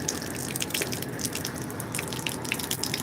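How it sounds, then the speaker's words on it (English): Water pours and splashes into a solar hot water tank as a continuous gushing, dripping stream, close and steady with no talk. "I'll put a little more water in,"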